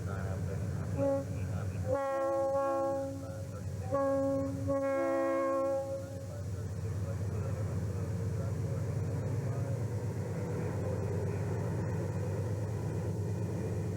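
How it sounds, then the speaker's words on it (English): A Santa Fe freight train sounds its horn in a few sustained chord blasts, the last two longer, over the steady rumble of the passing locomotives and cars, which continues after the horn stops. "At the west switch, Annette's train has the air and heads west to Watrous just in time for a meet with Amtrak number 4."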